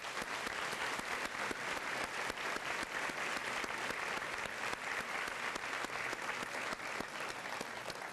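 A crowd at a high school senior assembly applauds scholarship students, a dense run of steady clapping heard from a distance, fairly quiet and unbroken for the whole stretch.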